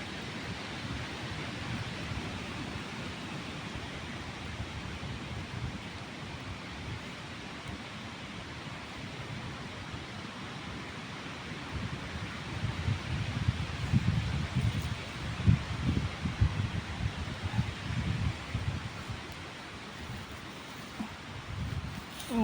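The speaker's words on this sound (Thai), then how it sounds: "ลมแรงหน่อยนะจ๊ะแต่เย็นสดชื่นมากเลย" Strong wind blowing outdoors in a forest while chanterelle mushrooms are picked, a steady broadband rush that swells louder in gusts partway through, with no talk.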